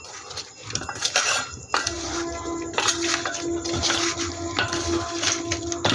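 Bhetki fish pieces being mixed by hand with turmeric and salt in a bowl, giving soft wet squelches and repeated clinks and scrapes against the dish, close and steady with no talking.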